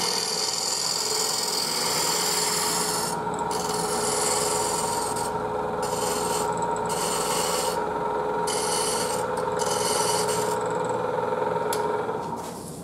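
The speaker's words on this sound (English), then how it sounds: "Using a shear cut using the spindle gouge." Spindle gouge taking a shear cut on spinning wood on a lathe, a continuous close rasping, hissing scrape with brief rhythmic dips as the tool is repositioned, all over a steady lathe hum.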